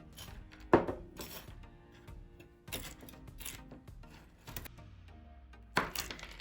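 A knife coarsely chops unsalted almonds on a cutting board in a few sharp, irregular knocks, close and fairly quiet, with pieces clinking in between.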